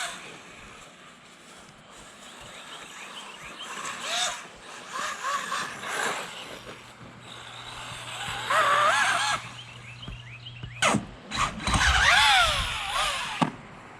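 An ARRMA Typhon Grom brushless RC car drives outdoors with a whining motor rising and falling in bursts, several sharp revving spurts and a few loud thumps toward the end.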